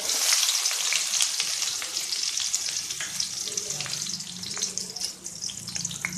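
Small onions frying in hot oil in a pan for cabbage poriyal, after mustard seeds and urad dal, give a steady, dense sizzle with crackling pops and occasional stirring scrapes throughout.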